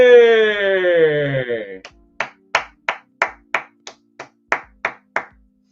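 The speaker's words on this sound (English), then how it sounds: "let's give it a round of applause" Roughly a dozen sharp, evenly spaced hand claps ring out alone at close range, following a stretch of voiced sound, like a single person applauding to welcome a guest.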